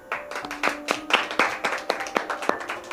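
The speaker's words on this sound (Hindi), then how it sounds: "आइए हम सभी लोग एक बार जोरदार तालियों को बजाएंगे।" A Sunday church congregation claps together in a quick, uneven burst of individual hand claps, fairly close and loud, with no talking over it.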